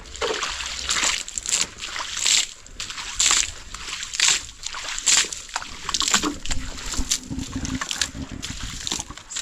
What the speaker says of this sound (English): Some water is going down